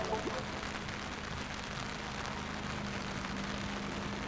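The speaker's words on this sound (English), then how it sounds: "As you can tell, it is chucking it down here at the moment." Heavy rain pours down steadily at the Emirates Old Trafford cricket ground, a dense, even hiss with no pauses and no speech.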